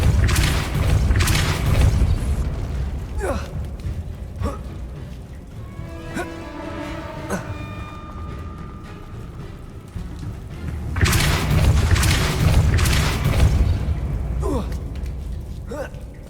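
A Depulso spell fires in Hogwarts Legacy, heavy booming blasts at the start and again near the end, with a quieter stretch of chiming magical tones between.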